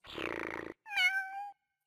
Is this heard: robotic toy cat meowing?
yes